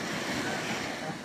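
Sea waves wash onto the shore at a beach resort in Sariaya, Quezon, a broad continuous surf rush mixed with wind buffeting the microphone.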